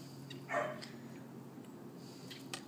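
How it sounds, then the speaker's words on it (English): A dog gives a single short bark at moderate distance, followed by a couple of faint yips, under a low steady background hum. "Who is that dog?"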